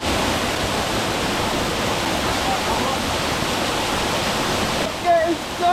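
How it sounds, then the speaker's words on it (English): A waterfall on a hiking trail in Kazakhstan, heard up close as a loud, steady, broadband roar of crashing water that fills the whole stretch; a brief voice cuts in near the end. "We've made it to the waterfall."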